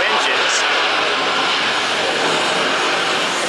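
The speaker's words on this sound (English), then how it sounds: "Can't even hear it because of the Neo engines." Loud, steady roar of jet airliner engines, the new-generation Neo type, running close by at an airport in Atlanta, filling the whole stretch without a break.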